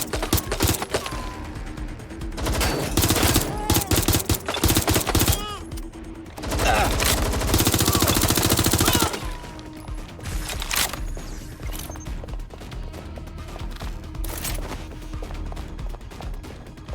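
Heavy gunfire erupts in a Watch Dogs Legion city fight, with rapid machine-gun bursts and dense volleys coming in waves, loud and close, over a game soundtrack and occasional voices.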